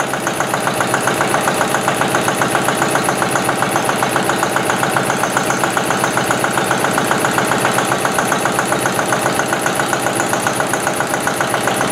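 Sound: octane rating test engine running

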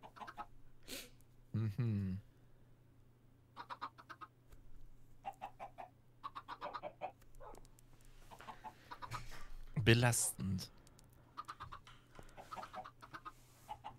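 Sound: chickens clucking in Minecraft video game

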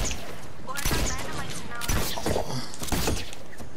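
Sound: shotgun gunfire in Fortnite video game

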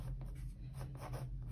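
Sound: sharpened pencil drawing thin grass blades

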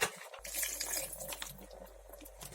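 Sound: pouring vinegar into zucchini in satsebeli sauce

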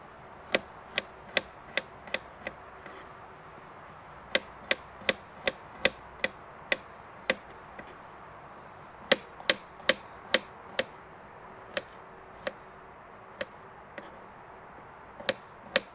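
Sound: knife chopping garlic

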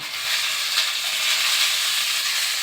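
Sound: tomatoes added to a hot pan, sizzling

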